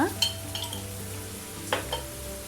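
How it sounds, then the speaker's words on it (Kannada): Vegetables for fried rice frying in a pan with salt as they are stirred: a low sizzle under a few clinks and scrapes of a spatula against the pan, close by. "ಉಪ್ಪೆಲ್ಲ ಹಾಕಿ ನಾವು ಫ್ರೈ ಮಾಡೋಣ"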